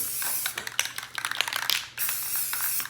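Flat black Rust-Oleum spray paint hisses onto white poster board in quick bursts with short clicking pauses, then a steadier hiss after a brief gap, close and without talk.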